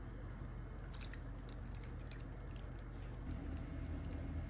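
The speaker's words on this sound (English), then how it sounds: "We're gonna pour half of it over this first layer." Thick liquid being poured into a dish, soft gloopy drips and squelches, close up and quiet, with no talking.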